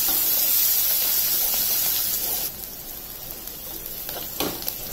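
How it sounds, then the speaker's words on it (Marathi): Onion frying in a pan until soft and pinkish, a steady broadband hiss of sizzling that drops in level midway and continues quieter, with a brief louder crackle near the end. "आणि कांदा छान फ्राय करून घ्यायचा आहे"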